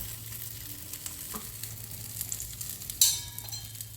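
Potato tikkis shallow frying on a hot griddle, with a soft continuous sizzle of oil close by, small scattered crackles, and a sharper pop or clink near the end; no one speaks.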